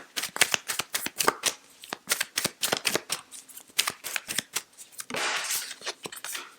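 Tarot cards are shuffled and drawn by hand during a reading, giving a close run of rapid flicking and snapping riffles, followed by a softer sliding rustle as cards are pulled.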